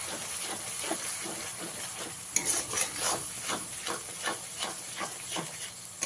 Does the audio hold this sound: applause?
no